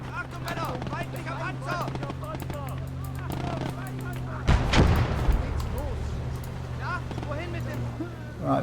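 Artillery fire in a World War II strategy war game: a heavy boom bursts out midway, loud and close, amid continuous battle noise, engine hum and scattered distant gunfire, with a voice talking throughout.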